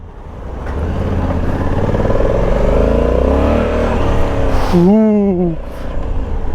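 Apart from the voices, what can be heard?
Honda Africa Twin 1100 DCT motorcycle engine revving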